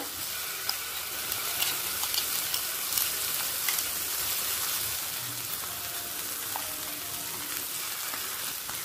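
Ground spice paste sputters in hot oil for a small-potato curry, giving a dense, even sizzle with faint occasional crackles and no voices.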